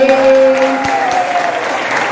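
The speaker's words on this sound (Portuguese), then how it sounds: "Palmas mais uma vez" A family gathering audience claps again in a short burst of applause, with a held tonal voice or note sounding over the clapping.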